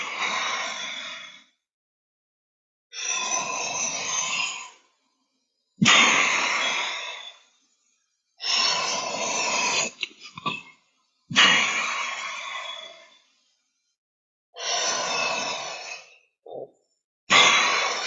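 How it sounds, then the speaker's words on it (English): Slow, deliberate breaths from a single person doing a spinal cord breathing exercise: seven long, forceful exhales or sighs, each a few seconds, separated by silent pauses, close and clear with no talking. "I'm basically just doing spinal cord breathing."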